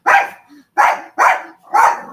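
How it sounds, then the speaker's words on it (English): A dog barks four times, loud and close, in a steady, evenly spaced series with short silences between the barks. "my dog was going to bark"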